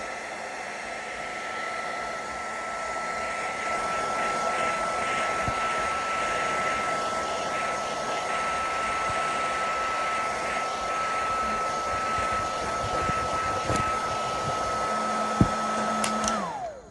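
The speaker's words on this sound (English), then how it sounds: "Will this Makita hot air gun, 18 volt of course, be able to dry this table up?" Makita 18-volt cordless heat gun blowing hot air to dry a table, a steady loud fan roar with a faint whine running continuously, a couple of small clicks near the end.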